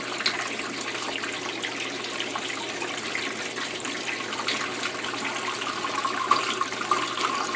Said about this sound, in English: the water will come out into the sink